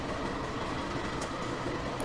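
A train running along a rail line gives a steady, dense rumble with faint wheel clatter, continuous and fairly close with no voices.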